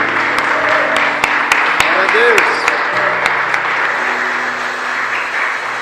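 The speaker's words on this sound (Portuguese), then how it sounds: "dá uma salva de palmas para o Senhor" A church congregation claps and cheers in praise of the Lord, a dense steady wash of applause lasting throughout, with voices calling out over it.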